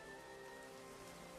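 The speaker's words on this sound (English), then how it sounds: "Then came the rain" Steady rain falls in an animated farm film, a soft continuous patter with a faint sustained tone running through it, brief and quiet.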